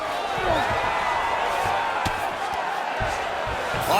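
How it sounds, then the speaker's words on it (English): Arena crowd in the UFC 5 fighting video game, a steady dense roar of cheering that fills the whole stretch, with a few sharp thuds and whoops rising out of it. "crowd absolutely loving it"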